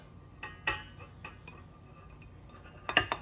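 A utensil scrapes eggs from a bowl into brownie batter, giving sparse clinks and scrapes against the dish with a quick cluster of sharper taps at the end, close and fairly quiet, with no talk.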